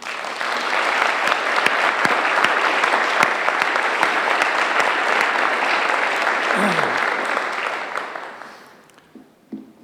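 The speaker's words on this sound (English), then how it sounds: "you clap for these people" Sustained, loud audience applause at a military appreciation ceremony, many people clapping steadily for about eight seconds before it dies away to a few scattered claps.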